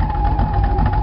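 A Dodge D150 pickup truck with a rusty cab sits idling, its exhaust giving a steady, close, low engine drone with a faint hum riding on top.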